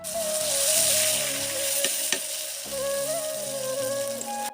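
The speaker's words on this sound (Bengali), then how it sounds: "আলু আর সজনেটা আমার ভাজা হয়ে গেছে" Potato and drumstick pieces fry in oil with a continuous close sizzle that swells and eases slightly, broken by a couple of brief utensil taps, over a faint steady tone.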